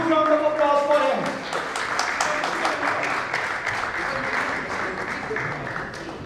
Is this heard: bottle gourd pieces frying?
no